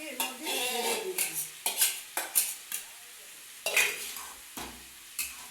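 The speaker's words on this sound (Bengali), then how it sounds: "এবার আমি ডালটাকে এর মধ্যে ঢেলে দিচ্ছি।" Boiled, salted lentils poured into hot spiced oil in a pan for dal with vegetables, heard as bursts of sizzling mixed with clinks and scrapes of a utensil against the pan, close and moderately loud with no talk.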